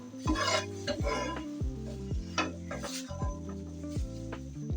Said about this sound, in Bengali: শুটকিটা দিয়ে আমি একটু ভেজে নিচ্ছি তেলের সাথে